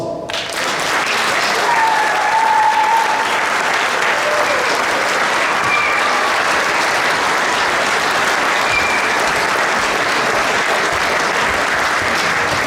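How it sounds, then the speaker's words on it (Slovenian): Loud, sustained audience applause at a winter-sports concert in Gorje, Slovenia, greeting young skiers and biathletes; thick, even clapping that begins sharply and continues steadily throughout, with faint voices mixed in. "Zato mislim, da je čas za en velik aplavz."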